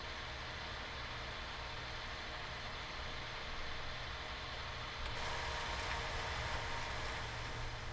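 Tractor engine running in Farming Simulator 19 during fieldwork, a steady low drone that holds constant throughout with a slight rise in level partway through, no talking.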